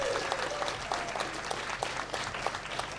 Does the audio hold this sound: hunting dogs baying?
no